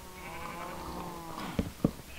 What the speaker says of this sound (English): Nice noise of cows above.